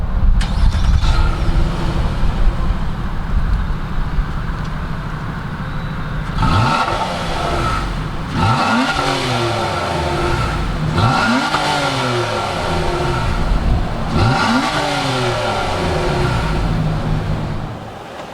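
A 2019 Nissan Maxima SR with a 3.5-liter V6 idles steadily, then is revved four times in a row. Each rev rises and falls back smoothly, heard close up with no talking.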